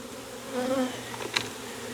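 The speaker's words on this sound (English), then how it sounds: "let all the flight bees come on out of there" Honey bees shaken out of a nuc box buzz in a dense, droning swarm close by, with a steady hum and a few louder passing buzzes.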